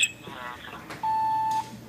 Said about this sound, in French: D'abord un test audio.